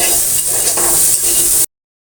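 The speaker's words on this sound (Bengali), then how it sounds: "শুকনা ঝাল ভাজতে দিছি" Dried red chillies frying in a pan, a steady, close, bright sizzle with faint stirring that cuts off abruptly.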